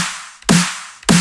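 Punchy snare drum sample for a mid-tempo drop remake: two loud, crisp cracks with a tonal body, spaced about half a second apart over a faint noisy tail.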